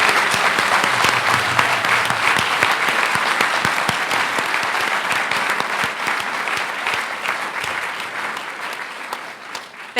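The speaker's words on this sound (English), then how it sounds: "Let's give these students a round of applause." An audience at a school recognition event gives a long, steady round of applause for honored students, many hands clapping continuously and close, gradually thinning toward the end.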